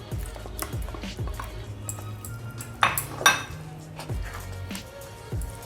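Cooked moong dal goes into softened rava in a pot for rava pongal and is stirred through, giving close metallic clinks and scrapes of a spoon against the pot, with a couple of louder clatters midway.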